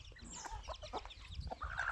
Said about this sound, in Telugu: సిటీ కోళ్ళు చూడండి, సిటీ కోళ్ళు చూడు గిరిరాజాలు బాగున్నాయి